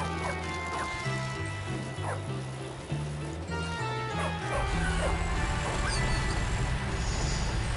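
A dog barks and yips repeatedly in the video game Bully, the sharp barks scattered over steady background game music with a louder ambient passage toward the end.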